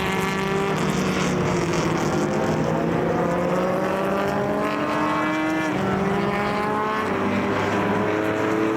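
Vintage race cars scream past at Mid-Ohio during an SVRA race, several loud engines overlapping with rising and falling pitch as they pass close by, continuous and dense.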